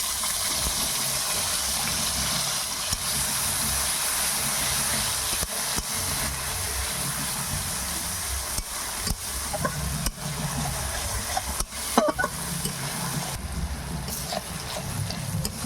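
Ginger, cumin, tomato, cashew and poppy seed paste sizzling in hot oil in a wok, a steady broadband hiss and crackle running throughout with a few brief clatters, no talking.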